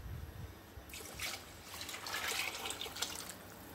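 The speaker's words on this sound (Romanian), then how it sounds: "Deci acum pot să adaug apa." Roughly a kilogram of water pours onto toasted rice in a pan for Mexican-style rice, a close trickling and splashing that builds after a short pause and continues to the end.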